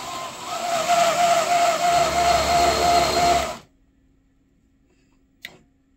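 A Beluga Bronco RC model car fitted with a 7-channel radio system drives forward with a steady, loud electric motor whine that cuts off abruptly partway through, followed by near silence and one brief click.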